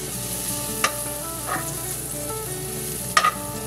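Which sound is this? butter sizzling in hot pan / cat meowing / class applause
butter sizzling in hot pan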